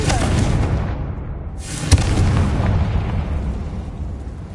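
A Confringo explosive spell goes off in the Hogwarts Legacy video game as a loud, broad rumbling blast with a sharp crack partway through, then a sustained roar that slowly fades.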